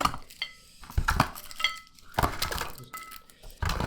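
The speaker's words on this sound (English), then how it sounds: "So put them back in the box." Foil-wrapped Quality Street chocolates are dropped back into their box, making a run of bright clinks, crinkles and rattles that come close and fairly loud in irregular bursts, with no talking.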